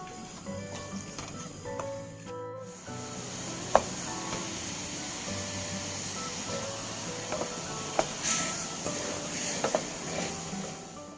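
Sugar boils in a pot, giving a steady hiss and bubbling sizzle with a few sharp clinks and taps over a continuous noisy bed.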